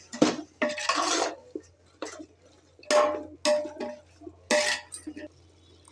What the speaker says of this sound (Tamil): இப்போ இதை நல்லா கிண்டிக்கலாம்.